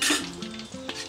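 A pinch of turmeric hits hot oil in a pan while cooking kanda kodiguddu pulusu, giving a brief, close sizzle with light stirring clinks.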